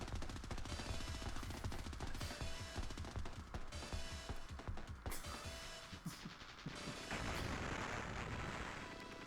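Rapid, dense gunfire and explosions from the video game Contra: Hard Corps on Sega Genesis, continuous loud rattling bursts layered with game music and no talking.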